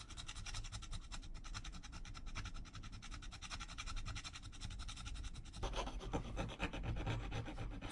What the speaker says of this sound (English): See how I'm twisting the file and get it right in the corners.